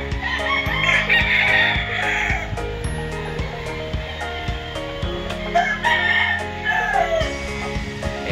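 A Super Sweater gamefowl rooster crows repeatedly on a Tanay, Rizal game farm, loud and close, with other roosters and birds calling all around in a dense, constant barnyard chorus.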